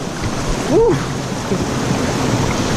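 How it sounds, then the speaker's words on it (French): Water rushing at the base of a waterfall during a hike: a loud, steady broadband roar filling the whole stretch, close and continuous, with a brief voice-like sound early on. "on est arrivé en bas de la cascade"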